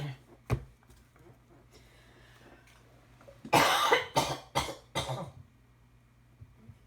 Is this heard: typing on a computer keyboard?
no